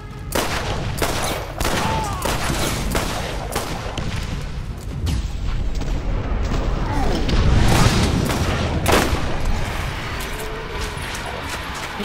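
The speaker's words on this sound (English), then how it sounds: "Shoots a laser?" Loud, continuous game combat from a Borderlands creature fight against Skagzilla, with dense booming blasts and gunfire-like bursts throughout and a sustained beam attack, under occasional players' voices.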